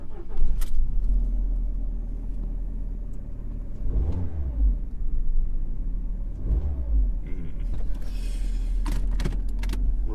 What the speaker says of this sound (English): So let's get this car on the road.